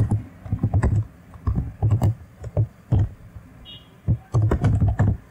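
Computer keyboard typing while code is written in a Linux terminal, a steady close run of clicky keystrokes in short bursts with brief pauses, no voices.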